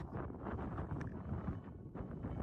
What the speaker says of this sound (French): Le vent souffle à l'envers.